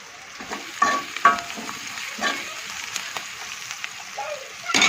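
Onions fry gently in a pan with garlic cloves, green chillies and curry leaves for a capsicum and potato curry, giving a soft, steady sizzle with a few brief stirring clinks and scrapes, close and moderately quiet.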